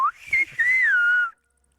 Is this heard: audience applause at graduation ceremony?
no